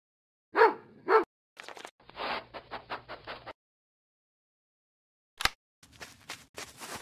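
A dog barks twice, then a burst of rapid yips, a pause, and another bark followed by a few scattered yaps, fairly close.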